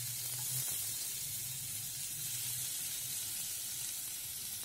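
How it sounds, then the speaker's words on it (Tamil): Chopped onion and tomato sizzle steadily in a hot pan while cooking down a mint tomato chutney, a continuous close frying hiss with a low bubbling layer and no voices. "வெங்காயம் நல்லா வதங்கினோன்னு அதில் நறுக்கி வச்ச வெங்காய தக்காளி"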